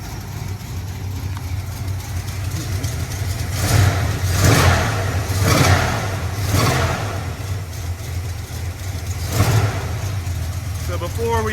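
A 1979 Dodge Power Wagon engine with a slight exhaust collector leak idles with a rough steady rumble, rising into several close, loud revs before settling back, while someone talks over it.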